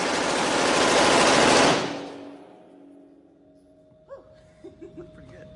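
A SAW machine gun fires during a shooting competition, a loud continuous automatic burst lasting about two seconds, followed by a ringing decay and then brief voices and laughter.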